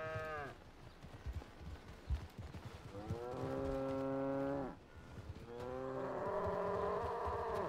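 Cartoonish cow moos from a role-play video game during cattle herding, several drawn-out bellowing calls repeated in sequence, fairly loud and close, with a brief gap between them.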